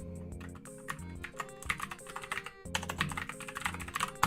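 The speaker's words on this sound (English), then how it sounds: "just typing that" Keyboard typing on a computer keyboard, a steady run of quick clicky keystrokes through the whole stretch, heard over a dense musical background, with no talking.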